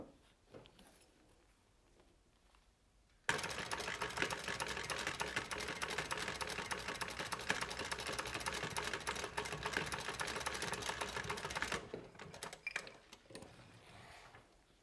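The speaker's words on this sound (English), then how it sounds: "So I'm going to stitch at a 1/4 of an inch." A sewing machine stitches a quarter-inch seam on a small holiday stocking-stuffer bag, running steadily and loudly for about eight seconds after a quiet start, then stopping.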